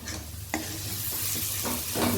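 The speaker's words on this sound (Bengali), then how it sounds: "এইবার যে আলু আর মাছ সেদ্ধ করে মেখে রেখেছিলাম সেটা এর ভেতর দিয়ে দিলাম" Boiled potato and fish mash stir-fried into sizzling spices in a pan, a steady close crackle broken by a few sharp spatula scrapes.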